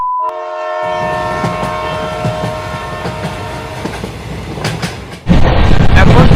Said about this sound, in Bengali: ট্রেনটি সঠিক সময়ে গয়া স্টেশনে প্রবেশ